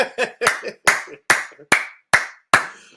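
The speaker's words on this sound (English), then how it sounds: "Can we all give a round of applause to a man like Khalees, please?" Eight slow, loud, close claps ring out one after another in an even rhythm, like a single person clapping for someone.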